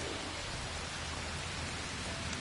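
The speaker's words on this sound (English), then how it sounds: "It's raining." Steady, even hiss of rain falling in the video game Arc Raiders, a constant wash of noise with no pauses and no talking.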